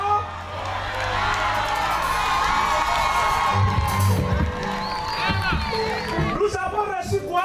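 Church congregation cheering and acclaiming together, a dense loud crowd of overlapping shouts, whoops and voices sustained throughout, with a few individual cries rising near the end.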